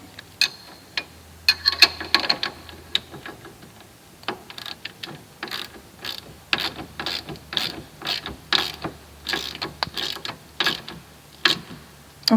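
A hand ratchet tightens the shock bolts on a Bandit UTV, making bursts of quick, close clicking strokes separated by short pauses.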